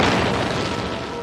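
A cannon fires in a played TV clip, a single loud deep boom with a broad rumbling blast that fills the moment and slowly fades.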